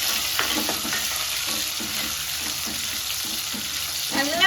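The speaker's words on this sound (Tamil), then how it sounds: "நல்லா வெங்காயம் வதக்கி சுருங்கட்டும்." Onions sauté in a pan for a carrot beetroot curry, a steady close sizzle broken by a regular series of scraping stirs from a spoon.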